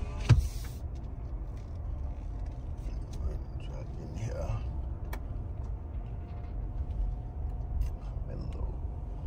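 A car, apparently a Tahoe, driving along with a steady low road rumble and engine hum from inside the cabin, continuous throughout, with a short knock near the start.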